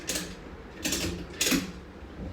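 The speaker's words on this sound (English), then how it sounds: "Okay, and now you ratchet up." A ratchet strap being cranked tight, giving three short clicking, rasping bursts spaced about half a second apart, close and fairly quiet, with no talk.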